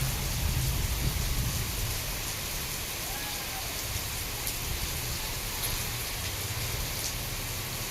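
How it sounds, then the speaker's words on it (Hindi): Steady rain falls outside a home during an unexpected shower, giving a continuous even hiss of drops on surfaces that holds at moderate loudness throughout, with faint voices in the background. "बिल्कुल भी लग ही नहीं रहा था बारिश का मौसम, और देखो इससे बारिश आ गई।"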